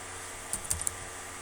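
A few quiet keystrokes on a computer keyboard while typing Python code, three or four soft clicks close together in the middle of an otherwise hushed room.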